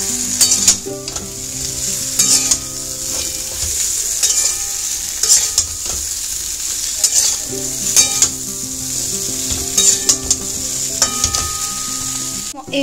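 Fried bitter gourd and brinjal pieces frying for Bengali shukto, a steady close oil sizzle with repeated clinks and scrapes of a spatula stirring the pan throughout.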